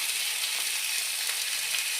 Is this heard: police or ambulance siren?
no